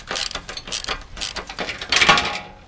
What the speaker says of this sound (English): These two nuts right here are 5/8, so you should be able to use the same socket as you used to remove the bumper.